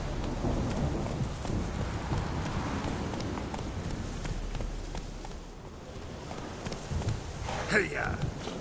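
Roach the horse gallops through rain in The Witcher video game. Hooves beat steadily against a constant hiss of rainfall, and a voice speaks over the scene.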